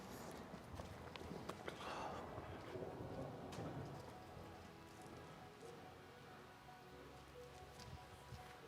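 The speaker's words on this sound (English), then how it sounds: "The third night is a rainy one." Steady rainfall on a rainy night, a dense broadband patter with scattered drop hits and faint taps, fairly close and even in loudness throughout, with no voices.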